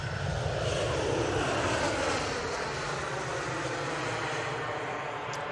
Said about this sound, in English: sweet, that landing. That was the EasyJet flight from Paris, Orly.